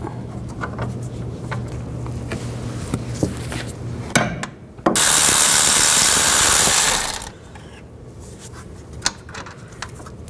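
Ratchet with a 17mm socket working the four rear hub bolts on a 2007–2011 Honda CR-V, a burst of scattered clicks and knocks followed by a loud, steady two-second ratcheting whir, then quieter clicking.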